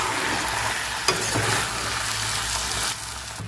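Chicken pieces being stir-fried in a pan for a Bengali chicken jhol give off a steady, close sizzle with a brief scrape of stirring, no one speaking.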